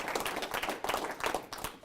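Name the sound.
audience applause for SMUD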